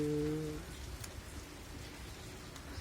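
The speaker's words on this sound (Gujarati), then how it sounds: "વરસાદ વરસી રહ્યો છે ચારે બાજુ" Steady rain patters on surfaces nearby in Jam Raval, Gujarat, a constant hiss with scattered drops, after a brief low hum fades at the start.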